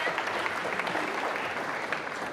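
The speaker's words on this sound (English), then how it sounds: "Quick round of applause for everybody." At an awards day, a room full of people gives a quick round of applause, an even wash of clapping at moderate volume that carries on without a break.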